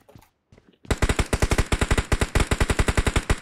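Rapid automatic gunfire in PUBG Mobile, a loud steady stream of close shots firing in quick even rhythm after a brief quiet start.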